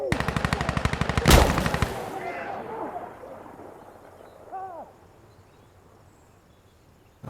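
Gunfire in the video game Insurgency Sandstorm, a rapid burst of automatic rifle shots ending in a loud crack, then a decaying echo and faint distant sounds, with no talk over it.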